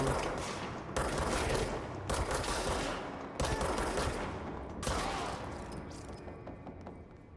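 Rapid automatic gunfire from the video game Control rattles out in loud sustained bursts, with several sharp restarts and a fading tail at the end.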